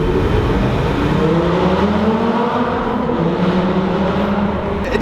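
A Lamborghini engine revs hard inside an underpass, a loud continuous roar with rising and falling pitch sweeps echoing off the enclosing walls.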